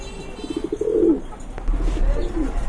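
A male blue Danish pigeon coos close by in two rolling, throaty phrases, each swelling and then falling away, with no voices.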